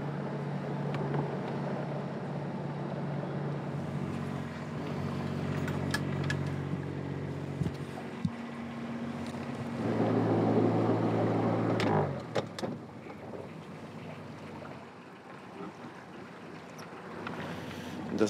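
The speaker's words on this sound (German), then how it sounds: "Der Motor hilft, das Segelboot zu manövrieren." A sailboat's engine hums steadily at low pitch with wind and water noise as it motors into a harbour, swelling briefly louder before easing off.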